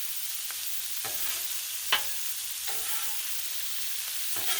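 Shrimp scampi sizzling on a hot Blackstone griddle: a steady, bright frying hiss runs throughout, broken by several soft spatula scrapes and one sharp tap, close and alone.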